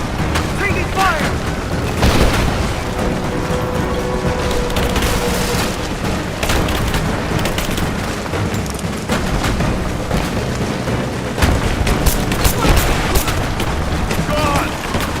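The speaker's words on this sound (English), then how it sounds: "Laying down covering fire!" Gunfire in a Rise of the Tomb Raider firefight: dense, continuous bursts and booming shots with explosions, loud and chaotic, with shouted voices mixed in.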